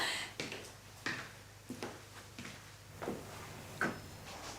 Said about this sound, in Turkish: Kapıyı kilitledim.